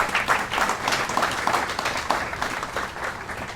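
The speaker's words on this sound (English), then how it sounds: "So let's give them a round of applause" Sustained applause from an audience at a tennis hall of fame ceremony, a dense even wash of clapping lasting throughout, fairly loud and steady with no talk over it.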